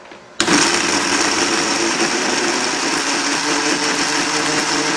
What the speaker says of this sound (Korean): 자 물도 조금 붓고 갈아 보도록 하겠습니다